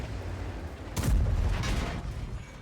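A single tank gun shot in a video game cracks out with a heavy, booming low rumble that fades over the next second, standing out against a quieter background.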